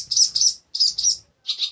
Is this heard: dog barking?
no